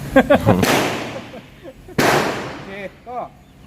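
Two sharp, loud shots from a Colt Gold Cup Trophy Series 70 1911 pistol in .45 ACP crack about a second apart on a shooting range, with someone talking before and after them.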